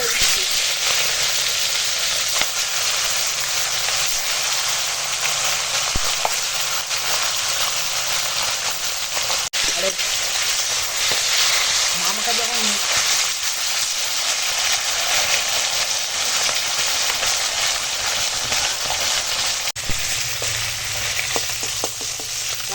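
Fish sizzles and spits steadily in hot mustard oil with chilli, a loud, close, continuous frying hiss with occasional stirring and faint voices underneath.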